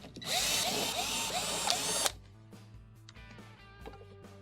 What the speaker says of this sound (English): To remove the back panel, we're going to extract the 5 1/4-inch screws holding the panel in place.